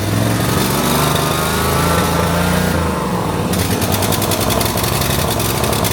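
A Snapper zero-turn lawn mower engine surges uncontrollably, running loud and steady, its pitch rising and falling as it revs, with a shift in tone partway through after choke is applied.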